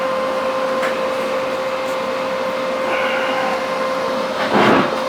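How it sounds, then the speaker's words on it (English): A welder lays a bead into a wide-gap seam, giving a steady close buzzing hiss with a brief louder crackling burst near the end. "I'll be welding right in the seam here."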